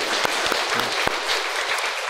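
A church congregation applauds two families after an infant baptism during a Sunday service, a steady wash of clapping from many hands that carries through the whole moment with no voices over it.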